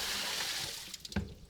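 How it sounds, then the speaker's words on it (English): Tap water poured into an outdoor medaka fish tub, a steady broadband rush of flowing water that tapers off near the end with a few splashy bursts. "I just fill this up with tap water with some dechlorinators."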